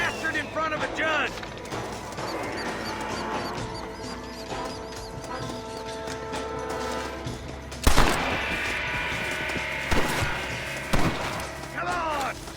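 Gunfire in the Red Dead Redemption video game on Xbox One: scattered loud shots and bursts mixed with game music and voices, with sharper, louder reports near the end.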